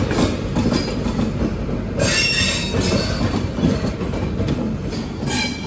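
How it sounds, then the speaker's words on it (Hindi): A train departs from New Delhi alongside the New Delhi–Ranchi Rajdhani, rolling steadily with loud wheel squeal, clickety-clack over rail joints and a constant low rumble, heard close up from on board. "नई दिल्ली रांची राजधानी के साथ बिल्कुल पैरेलल में डिपार्चर हुआ है अपना।"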